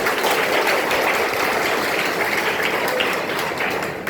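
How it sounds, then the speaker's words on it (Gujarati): An audience at a gathering at an institution for blind people claps steadily to welcome the Shri Krishna Seva Group, a dense, even burst of applause lasting a few seconds. "આપણે સૌ તેમનું તાળીઓથી સ્વાગત કરીએ"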